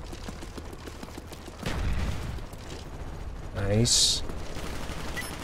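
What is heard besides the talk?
Uzi submachine gun fire in Call of Duty Black Ops video game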